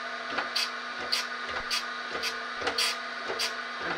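Motor-driven grinding wheel working a part held at a 45-degree angle for a DIY borescope. Close, rhythmic scraping bursts repeat about every half second over a steady motor hum.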